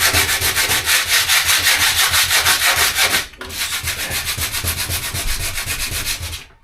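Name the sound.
hand sanding van bodywork with 60 grit sandpaper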